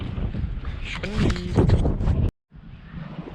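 Steady rushing wind buffets the microphone, loud and blustery, briefly cutting out before continuing more softly.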